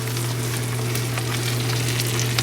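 Steady, loud sizzling of peppers and onions frying in a hot pan, continuous and close with no pauses or voices.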